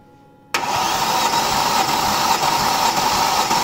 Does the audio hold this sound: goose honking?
no